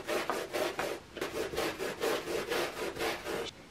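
Brush with soap and hot water scrubbing a stain in a bathroom, rapid rhythmic back-and-forth strokes, about a dozen close loud bristle swipes with a brief pause midway.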